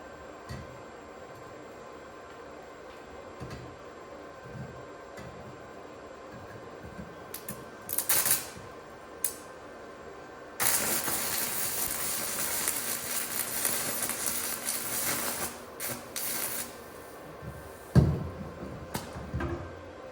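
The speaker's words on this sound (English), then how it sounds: "I think that was our first successful weld" Stick welding with a PUWU 110V 135A arc welder: a steady crackling, hissing arc comes in partway through and keeps going for several seconds over low background hum, with a few sharp knocks near the end.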